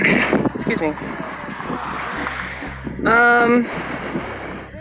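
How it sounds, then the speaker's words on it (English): Outdoor wind buffets the microphone in repeated low rumbling gusts under someone talking, with a brief sharper burst partway through. "There's nothing I can do about that wind."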